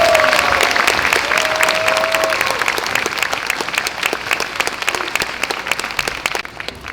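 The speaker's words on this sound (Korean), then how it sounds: "뒤에서 안 보이는 곳에서 열심히 노력한 6학년 친구들에게 다시 한번 박수를 부탁드립니다" An audience at a Waldorf school midwinter performance gives a sustained, loud round of applause for the sixth graders, steady and dense throughout with a few scattered whistles.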